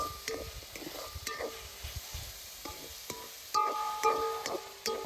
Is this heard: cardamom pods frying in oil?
yes